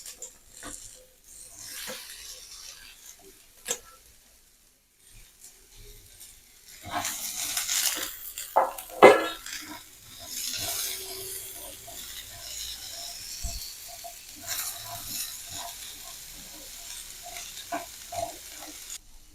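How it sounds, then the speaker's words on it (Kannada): Garlic, ginger, green chilli and onion fry in a pan, with a soft sizzle beneath repeated scraping and stirring strokes, quiet at first and then busier and closer, with a few sharp clinks of a utensil against the metal. "ಈಗ ನೋಡಿ, ಈರುಳ್ಳಿ ಎಲ್ಲ ಸ್ವಲ್ಪ ಫ್ರೈ ಆಗಿದೆ."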